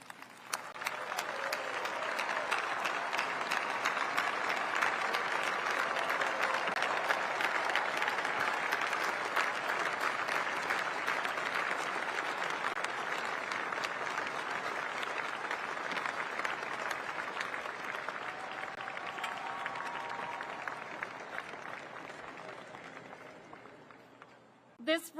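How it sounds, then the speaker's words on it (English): An audience stands and applauds the team behind the B-21 Raider bomber at its unveiling ceremony. The clapping is sustained, dense and fairly distant, running about twenty-five seconds before it fades out. "join me in another round of applause"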